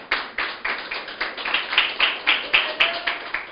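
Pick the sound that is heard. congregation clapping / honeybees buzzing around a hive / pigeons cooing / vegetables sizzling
congregation clapping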